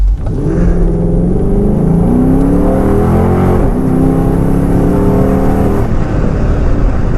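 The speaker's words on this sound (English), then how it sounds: "just to rev it up, accelerate" A 2013 Dodge Charger R/T AWD engine revs loudly and accelerates up through its range, a close, steady roar that rises and holds for about six seconds before cutting off, with no talking.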